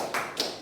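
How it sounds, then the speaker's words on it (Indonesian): A classroom group does a short 'tepuk semangat' spirit clap, two quick bursts of sharp tapping claps in a brief patterned rhythm, close and fairly quiet. "Kalau saya mengatakan tepuk semangat, berarti kalian harus tepuknya seperti ini."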